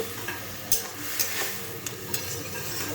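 Boiled banana flower cooks with spices and a splash of its boiling water in a pan, a low sizzle broken by a few sharp spatula scrapes and taps, quiet and close.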